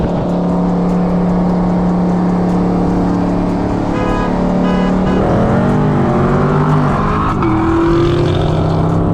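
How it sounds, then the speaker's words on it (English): A 2020 Dodge Charger 392 Scat Pack widebody spins out while racing. A loud, constant engine drone holds steady, then swings up and down in pitch as the car slides around. "Dude, I spun out crazy on that one."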